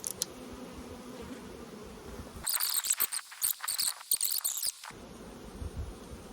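Honey bees from an old section of a colony being merged into another hive, with bursts of high, shrill buzzing and crackling hive activity arriving close to the microphone in uneven clusters for a couple of seconds.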